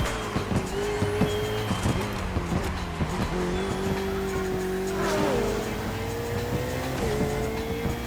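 A car laps a wet public race track on slightly studded tyres, its engine droning and shifting pitch as it accelerates and eases off, with tyre hiss and road rumble, close and continuous throughout.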